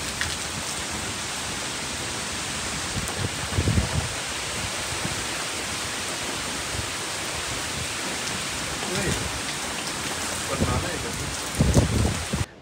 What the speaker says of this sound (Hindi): मैंने आज तक इतनी तेज़ आंधी वाली बारिश नहीं देखी।